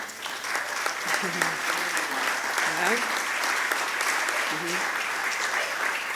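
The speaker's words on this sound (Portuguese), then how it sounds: "para quem peço uma salva de palmas" Steady audience applause at an EMRC teachers' meeting in Portugal, welcoming a new team member, a dense even wash of many hands throughout, with a faint voice murmuring beneath.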